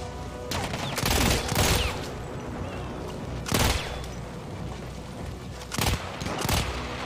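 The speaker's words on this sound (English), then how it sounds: "God, this gun shreds. It just burns through ammo really fast." A fast-firing gun in Battlefield 1 that chews through ammunition, heard as several loud clustered bursts of rapid shots spaced a few seconds apart, close and prominent over the battle ambience.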